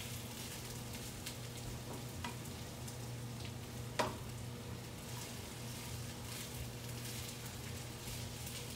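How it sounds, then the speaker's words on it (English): Collard greens sizzle steadily in a hot pan, a continuous crackling hiss with scattered pops and one louder clink partway through. "A little more sizzle."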